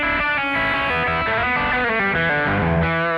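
Electric guitar plays a distorted riff through a Kemper Profiler set to a very low cabinet high-cut value, loud and continuous, with rhythmic chugging and shifting chords and no voice.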